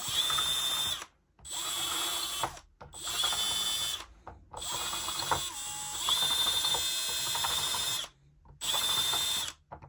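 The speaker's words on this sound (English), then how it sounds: "All you're going to do is just gently run the drill down" A power drill whirs in several short bursts with brief pauses between, deburring a brass .380 Auto case mouth, a steady high whine with metallic grinding, close and fairly loud.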